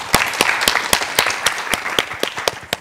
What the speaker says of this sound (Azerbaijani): Ona görə bir sözlə alqışlar sizə